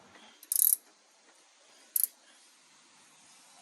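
A wrench loosens a bolt on Jeep Grand Cherokee suspension while upper control arms are fitted, giving two short, close metallic ratcheting clicks with quiet pauses between.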